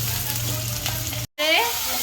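Chopped onions frying until reddish, a steady close sizzle in the pan over a low hum, cut off briefly by a short gap before the crackling resumes.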